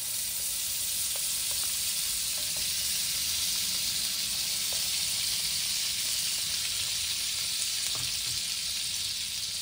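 Masala buns toasting on a hot pan give a steady, even sizzle throughout, with a few faint clicks and taps over the top and no voices.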